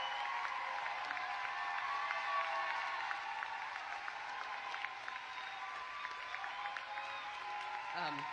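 Audience applause, a dense steady clatter of many hands clapping throughout, fairly faint and distant with a crowd murmur underneath.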